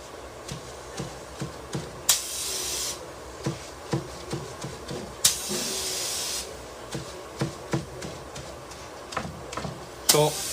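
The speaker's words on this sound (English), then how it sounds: "you're spraying it on there" Spray paint hisses through a bag onto a lowrider pattern in two sustained bursts, surrounded by light taps and clicks of the can and bag.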